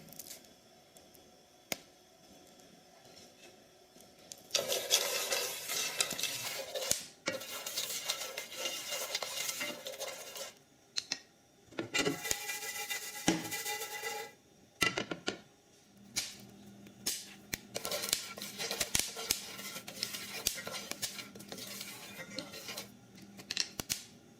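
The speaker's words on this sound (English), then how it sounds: "We're at the stage now they call first crack. You can hear them popping like popcorn." Sharp, irregular crackling pops burst out in quick clusters over a steady whirring hiss, like coffee beans hitting first crack in a roaster.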